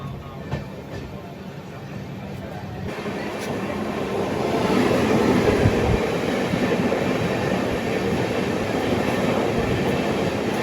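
A MEMU electric suburban train on the Krishnarajapuram to Marikuppam line rumbles steadily close by, its broad rolling noise swelling louder midway and holding there.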